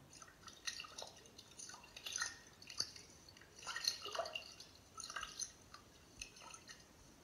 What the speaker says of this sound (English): As we walk along, we hear the sound of water.